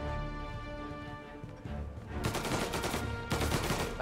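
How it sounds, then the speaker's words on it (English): Gunshots ring out in the crime game Mafia: Definitive Edition, starting at about two seconds as a rapid burst of shots over a steady musical score, with a brief pause and then another flurry near the end. "Who's shooting, though? I heard gunshots."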